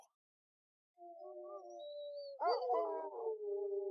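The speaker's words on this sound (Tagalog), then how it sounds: "Pero bago pa makasagot si Tommy, biglang nag-ingay ang mga aso sa labas. Hindi lang tahol, kundi alulong." Several dogs howl outdoors in long, rising and falling wails, one voice starting alone before others join in a louder overlapping chorus that carries on steadily, with no talking.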